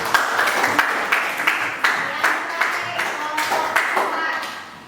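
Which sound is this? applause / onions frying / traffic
applause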